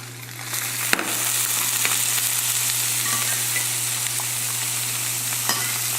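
Egg sizzling and frying in a hot pan while being stirred and scrambled for pad thai, a steady close crackle throughout with a few sharp clacks of a utensil.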